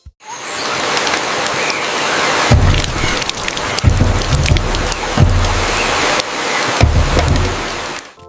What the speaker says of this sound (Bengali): জঙ্গলে নামলো বৃষ্টি।